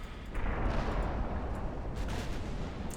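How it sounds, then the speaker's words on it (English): A torpedo strikes a warship in the naval strategy game Ultimate Admiral: Dreadnoughts, a deep, rumbling explosion that swells after a brief lead-in and rolls on loudly, with a few sharper cracks scattered through the sustained roar. "Takes a torpedo."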